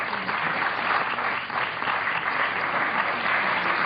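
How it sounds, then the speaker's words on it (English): Steady audience applause fills a talk on the Mothman, an even crowd of clapping hands sustained at constant loudness for the whole stretch. "People applaud if you've seen one."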